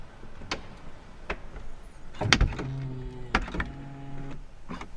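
Door of a gold BMW car soft-closing: a couple of sharp clicks followed by a low mechanical whir as the door draws itself shut, close by and clear with no talk.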